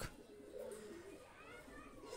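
Faint, low cooing from a Pakistani high flyer pigeon drifts through a quiet moment, soft and steady with no other clear sounds.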